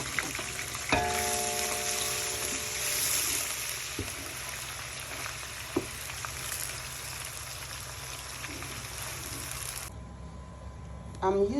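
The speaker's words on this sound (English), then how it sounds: "I'm adding in the diced onion and garlic" Diced onion and garlic land in a hot pot and sizzle in a steady, close frying hiss. A few clinks break in, and the hiss drops abruptly near the end.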